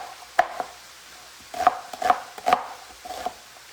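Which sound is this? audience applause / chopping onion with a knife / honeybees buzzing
chopping onion with a knife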